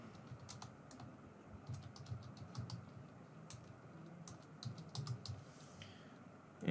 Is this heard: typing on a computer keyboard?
yes